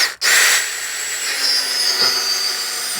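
A power drill drives a fastener into wood during a shed build, a loud, close, steady whine after a brief cutoff at the start, holding its pitch with slight strain.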